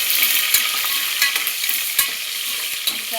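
Curry leaves and green chillies sizzle steadily in hot oil while being stirred for a prawn biryani, a close, bright frying hiss with occasional scraping knocks of the spoon against the pan.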